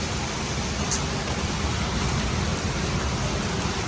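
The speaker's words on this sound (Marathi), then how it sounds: "पाऊस बघा किती चालू झाला आहे मोठा" Heavy rain pours in Ratnagiri in the Konkan region, a dense, steady, loud hiss of falling water that stays constant throughout, with no voices.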